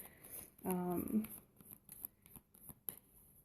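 Tarot cards are shuffled in a series of soft, quick riffling and sliding bursts, fairly close, with a brief stretch of speech early on.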